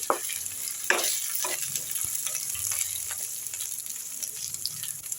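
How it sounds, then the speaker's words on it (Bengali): Diced potatoes fry in a pan with a steady close sizzle and crackle, broken by a few scraping stirs, no voices. "এবার একটু ঢাকা দিয়ে লাল লাল করে ভেজে নিচ্ছি"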